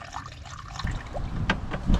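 Honda coolant poured slowly into a car radiator during a cooling-system service, with a soft, steady trickle of liquid and a few brief gurgles and splashes near the end.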